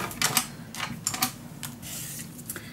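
Scissors cut a piece of paper for a Graphic 45 Love Notes folio mini album, making a quick run of crisp, close snips in an uneven rhythm.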